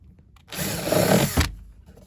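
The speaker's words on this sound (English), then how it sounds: "get your 5mm drill" A 5mm drill bit bores through to enlarge a small pilot hole in a plastic bonnet vent deflector, giving one short, loud whine that lasts about a second and then stops abruptly.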